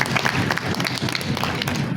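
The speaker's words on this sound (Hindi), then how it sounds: "तालियां" An audience at a gathering about mountain women applauds, a dense close burst of many hands clapping at once over a short span.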